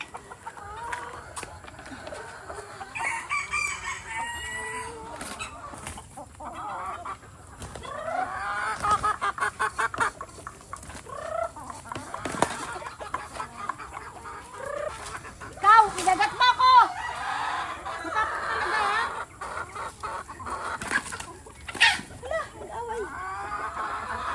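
Chickens cluck and squawk throughout at close range, with a rooster crowing now and then, in a gamefowl breeding pen of White Kelso and Sweater roosters, while a person talks intermittently.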